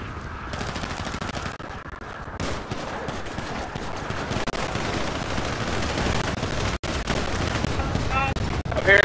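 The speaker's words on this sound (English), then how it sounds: "I'm hearing shots at Davis." Dense, continuous bursts of game gunfire and machine-gun shots in a GTA roleplay session, loud and sustained through the whole stretch, with a brief cut near the end and voices faintly under it.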